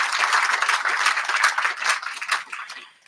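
Applause from a crowd at a community partnership presentation, directed to Marathon Petroleum staff: a dense wash of many hands clapping, steady and fairly loud, then thinning and fading out toward the end.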